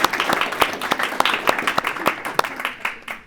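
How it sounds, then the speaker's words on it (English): A studio audience at a talk-show taping bursts into applause, with sharp individual claps rising out of a dense, lively patter that keeps going for a few seconds. "Give me a round of applause"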